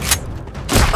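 Two sharp gunshot blasts in The Walking Dead Saints and Sinners, one at the start and a heavier one at the end, loud and close with a dull lull between them.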